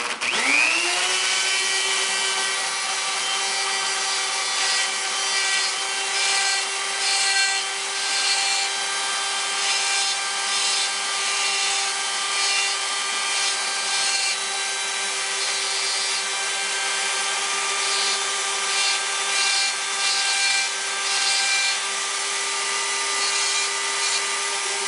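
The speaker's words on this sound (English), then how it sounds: "I'm going to engrave all the edges and follow it all the way around" A power engraving tool works along the edges of a piece, giving a loud, continuous high-pitched whine that starts abruptly and runs steadily with slight fluctuations under a constant rasping texture, without any talking.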